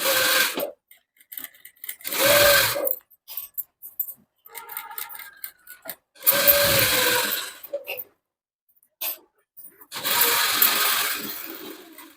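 Sewing machine stitching a cutwork blouse, running in several separate bursts of a second or so, with short quiet pauses between them and faint handling sounds in the gaps.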